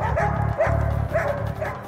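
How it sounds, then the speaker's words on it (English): Police dogs bark and yip repeatedly at a tense gun arrest, four or five loud close barks in a quick uneven rhythm. "Even the police dogs are picking up on the tension."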